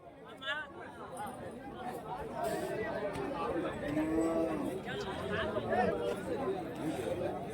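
HF and Jersey cattle and calves fill a busy Friday livestock market at Kundarapalli with occasional moos. Crowd chatter and nearby voices run continuously on top of them.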